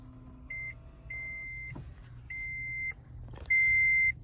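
A Vantrue X4S dash cam in a car gives a series of electronic startup tones: four steady beeps of rising length, the last one loudest, over a low hum of the vehicle.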